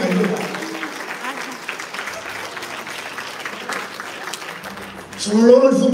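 A crowd at a regional boxing tournament claps steadily in sustained applause, with a voice speaking over it toward the end.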